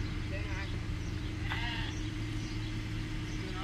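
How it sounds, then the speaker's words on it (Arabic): Naimi sheep bleating at a large livestock market in Buraidah, a few bleats and cries rising over a steady crowd din, with people talking throughout. "هذه مجموعة من النعيم كلها خرفان"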